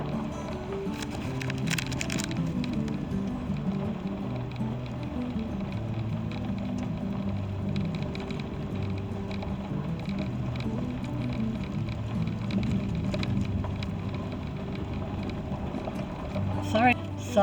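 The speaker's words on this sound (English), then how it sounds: "Sorry about the road noise, but that's part of the experience." Steady rumbling road noise inside a car driving a bumpy road through Allegheny National Forest in autumn, a continuous moderate drone with occasional rattles and knocks, a brief louder thump near the end.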